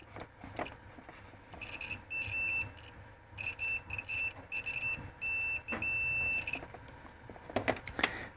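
Short high-pitched electronic beeps from a multimeter continuity test sound in irregular bursts, some brief and some held for about a second, fairly faint with small clicks between.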